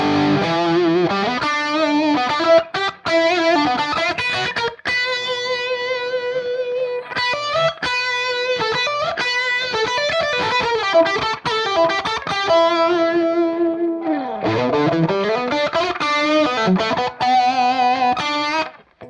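An electric guitar plays rock riffs and chords through a heavily distorted Marshall amp, loud and up close, with fast picking and sustained notes.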